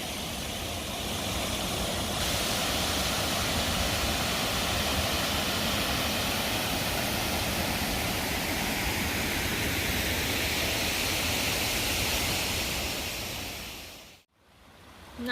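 Water rushes steadily at a trail water source near Lake Hyatt along the Pacific Crest Trail, a loud, continuous broadband roar close by with no talk, cutting off abruptly near the end.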